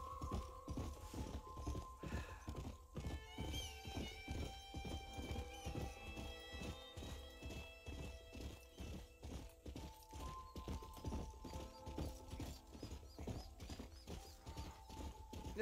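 Horse hooves clip-clop in a steady, rhythmic gait in the open-world western video game Red Dead Redemption, with faint whistling tones and background game music layered over the hoofbeats.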